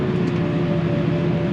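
A tractor engine revs steadily while pulling cultivator discs through cracked ground, a continuous low droning hum with a steady tonal whine and no talking.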